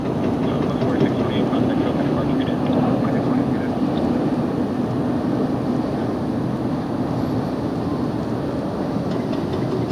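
A jet airliner lands at LAX, heard from a nearby hotel as a loud, steady roar of engine and rushing air that holds for the whole stretch with no break.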